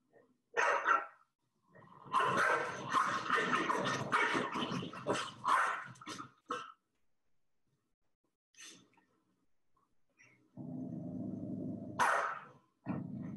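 Dogs bark in bursts from a video playing during a lecture, loud barks clustered early, then scattered yips and a low sustained passage near the end.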